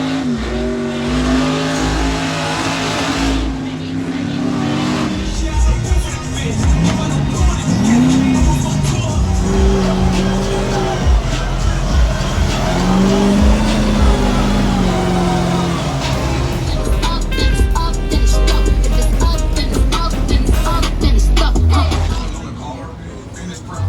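A twin-turbo Duramax diesel race truck revs hard with engine roar and tire squeal, loud and close, continuous throughout, with voices faintly mixed in.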